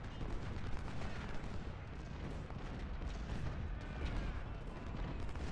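Distant artillery and massed rifle fire in Ultimate General: Civil War, forming a continuous muffled roar of overlapping booms and crackling volleys with no clear pauses.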